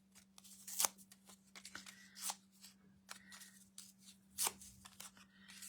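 Paper is torn by hand for a card-making project, producing faint, close, irregular rips and rustles over a low steady hum, with no talking.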